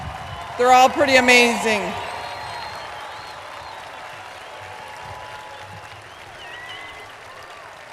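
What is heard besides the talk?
audience applause at graduation ceremony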